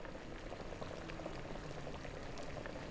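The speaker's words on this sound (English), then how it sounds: "They're just over there sharpening knives and boiling water." Water boils in the Dragon Quest VIII video game, a faint, steady bubbling and popping that stays even and continuous without any voices.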